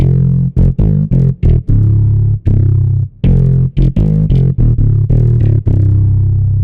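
An electric bass riff from a Serum hybrid orchestra preset runs through a gritty amp tone, punchy staccato notes in a funky rhythm, loud and up front.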